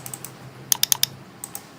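Typing on a computer keyboard, a quick burst of four crisp keystrokes followed by a few lighter taps, close and clear against a quiet background hum with no speech.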